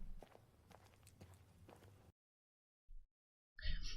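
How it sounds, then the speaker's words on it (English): Footsteps from an AI-generated video's built-in sound effects, a run of soft, evenly paced steps over low background noise for about two seconds, then silence broken by brief louder bursts. "there's sound effects built in to the videos, so you can hear footsteps"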